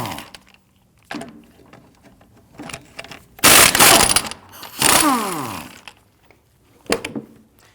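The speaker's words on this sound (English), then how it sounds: "I'm going to use a 19mm socket to go ahead and loosen and remove the lug nuts." A 19mm socket on an impact wrench loosens the lug nuts on a 2013-2019 Ford Police Interceptor Utility's rear wheel, giving two loud, close buzzing bursts of a few seconds each, with softer clicks and clatter between them.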